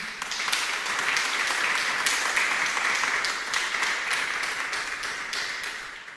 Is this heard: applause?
yes